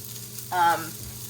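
Scrambled eggs with turmeric cook in a pan on low heat. A short, close sizzle flares up for a fraction of a second, then fades back to a faint background.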